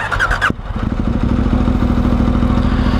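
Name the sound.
motorcycle engine running as rider sets off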